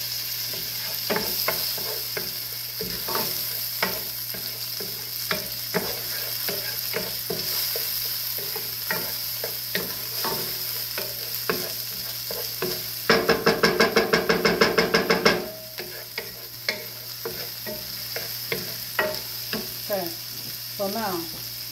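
Garlic sizzles in a pan as a steady, close hiss under scattered knocks and stirring scrapes, with a brief rapid rattling burst partway through.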